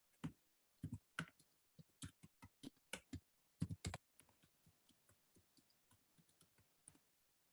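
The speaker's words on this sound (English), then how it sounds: "I'm just typing my mail ID" Keys clatter on a computer keyboard in quick, irregular bursts of clicks, close and fairly crisp, thinning into lighter, quieter taps toward the end, with no talking.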